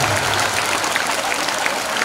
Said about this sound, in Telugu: గట్టిగా గట్టిగా చప్పట్లు కొట్టాలి